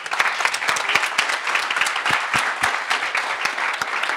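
An audience at a conference session applauds with dense, sustained clapping from many hands, steady and fairly close throughout.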